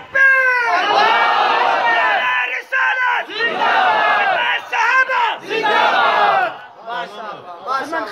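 A crowd at a religious gathering chants slogans in loud, rhythmic unison, with repeated raised-voice calls and responses that rise and pause.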